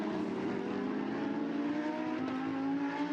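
A Lamborghini Super Trofeo race car accelerates at Misano, its engine note climbing steadily and sustained for a few seconds at moderate distance, with no voice over it.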